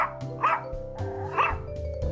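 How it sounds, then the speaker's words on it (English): A dog named Mona gives two sharp barks about a second apart, close and clear over a quiet background. "Mona, my trusty crime-finding dog"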